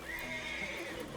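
Horse in the video game Red Dead Redemption 2 giving a long, drawn-out whinny over soft hoof clip-clops, fairly quiet and with no talk.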